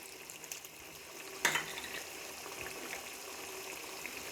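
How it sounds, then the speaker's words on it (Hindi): About a quarter cup of water splashes into a hot pan of mutton biryani masala with a sudden sizzle, then settles into a faint, steady frying hiss over medium heat. "अब हम इसमें 1/4 कप के करीब पानी शामिल करेंगे।"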